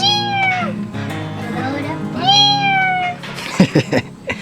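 A kitten meows twice, long drawn-out cries close by, followed by a few short soft knocks or bumps.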